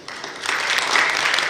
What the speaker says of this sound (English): let's appreciate and clap for the speakers